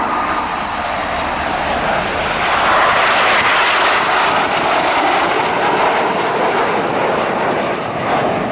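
An RAF Red Arrows jet roars through an inverted barrel roll during a flying display at RIAT 2024, a loud, sustained broadband jet rumble that swells slightly midway and stays powerful to the end.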